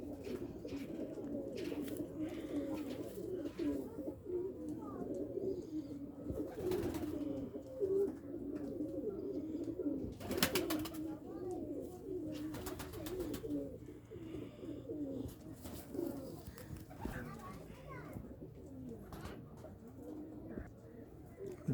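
Pigeons at a loft in Faisalabad coo steadily and continuously, a low rolling murmur from several birds close by, with occasional wing flutters and small knocks mixed in.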